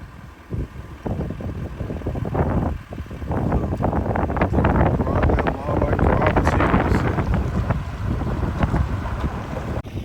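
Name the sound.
strong wind on prairie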